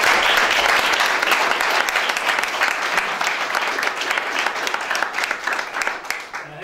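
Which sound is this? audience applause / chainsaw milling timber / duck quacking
audience applause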